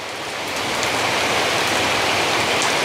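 Heavy rain pouring steadily in the Mekong Delta countryside, a dense continuous hiss of drops on surfaces, loud and close with no pauses and no voices.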